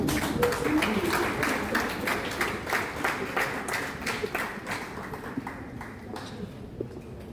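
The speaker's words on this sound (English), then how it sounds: "let us clap for them as they come." Students and guests at a school event clapping together in a loose, rhythmic beat, individual claps distinct and fairly close, tapering off and thinning out toward the end.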